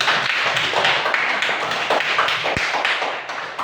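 A class of students claps hands together in a classroom, a dense run of overlapping claps that is fairly loud and near, with no talk over it.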